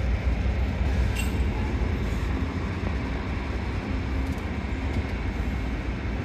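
Diesel locomotive passing, a dense steady rumble of engine and rolling wagons, close and loud, slowly easing off toward the end.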